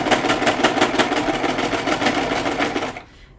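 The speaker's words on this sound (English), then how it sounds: "My sewing machine is going to work a little bit harder on these pleats because it's" A sewing machine stitches through thick fabric pleats, its needle hammering in a fast, even rhythm of loud clacks that stop abruptly near the end, leaving a faint motor hum.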